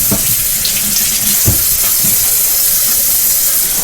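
Tap water pours steadily and loudly into a sink while potatoes are rinsed under it, with a few soft knocks and thuds of the potatoes in the stream.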